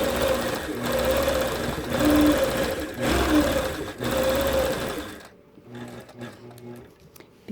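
A machine quilting a puffy StarDazzle baby quilt hums in rapid stitching bursts for about five seconds, then drops to a quieter idle with soft rhythmic ticks.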